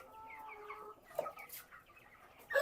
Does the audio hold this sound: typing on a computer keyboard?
no